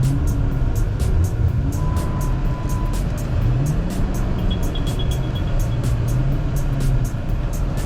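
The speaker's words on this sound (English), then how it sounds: "not a car that normally lets you do donuts" A Dodge Charger engine drones steadily, rising and falling in pitch as it revs and turns doing donuts in snow, continuous and fairly close with no talking.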